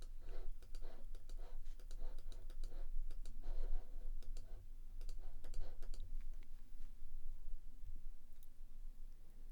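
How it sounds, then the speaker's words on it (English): Sharp, sparse clicks of an Apple Magic Mouse come in short bursts and single taps, close and fairly crisp, over a low background rumble. "Now I'm using my Magic Mouse."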